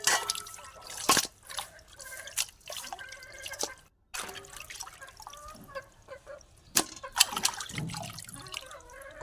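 Chicken meat is washed by hand in water, with irregular splashes, drips and trickles close by, quiet overall with a few sharper splashes and brief pauses, and no talk.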